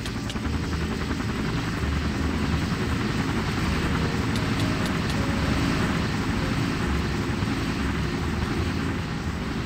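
A helicopter in the game Minecraft gives a loud, steady rotor and engine roar that holds constant and close throughout, with no talking.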